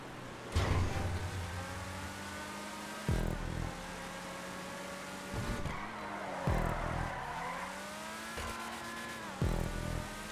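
Cars accelerate in a GTA V ghost race on PS4, engines climbing in pitch and shifting gears several times, with tire squeal and skids from a drifting car, loud and close, with no talking.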